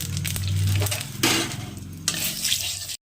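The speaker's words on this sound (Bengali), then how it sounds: "তেলের মধ্যে ফোড়নে দিয়ে দিচ্ছি গোটা জিরে আর তেজপাতা" Whole cumin seeds and bay leaves sizzle in hot oil left from frying eggs. The crackle is close and steady, broken by two sharper bursts that sound like stirring or pan contact.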